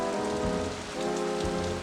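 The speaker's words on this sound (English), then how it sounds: "You see Sandrax now deep in the rain" Steady, loud rain pours continuously in the 1994 VGA video game Death Gate, a dense hiss of drops with no voices.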